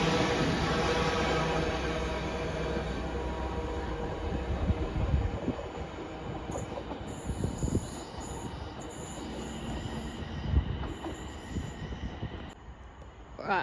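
A British Rail Class 350 electric train runs through Sandwell & Dudley station, a loud, close rolling rumble with wheel squeal and clanks that slowly fades, with no talking.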